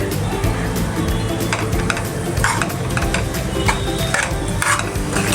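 Paneer stirred into hot pulao in a pan on the stove, with close, loud scraping and clattering of a spoon against the pan over a steady sizzle, no talking.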